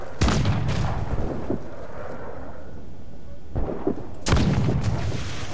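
Deep booming explosions of fire barrels in the Assassin's Creed 4 video game, two heavy blasts with rumbling tails, separated by a few seconds of lower rumbling battle noise.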